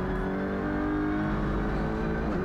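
Audi RS3 LMS WTCR touring race car engine on a hot lap around Motorland Aragon, heard from onboard as a loud, steady, sustained drone with harmonic whine and no talking.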